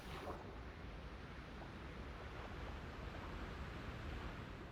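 Loud, steady rushing water in Minecraft, a dense unbroken roar like surf or flowing current that stays constant throughout.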